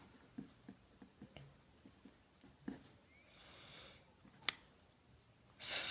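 A pen writes on paper, leaving faint, irregular scratchy strokes and light taps, with a louder rustle at the end.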